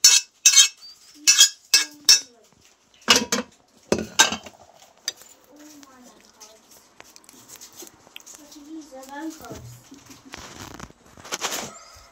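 Fried sweet pumpkin seasoned with panch phoron is scraped from a pan onto a plate, with a run of sharp metallic clinks and taps at first, then softer scraping and light handling sounds.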